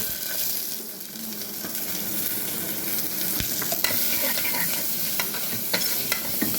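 Sliced onions with fennel seed, cinnamon and cloves sizzle and fry steadily in a pan, a continuous close crackling hiss with occasional sharper pops and stirring scrapes, no voices.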